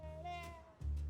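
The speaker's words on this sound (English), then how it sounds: "Get up, you stupid cat!" A cat in the video game Grim Fandango gives a drawn-out, slightly rising meow followed by a second short, low cry, close and fairly clear.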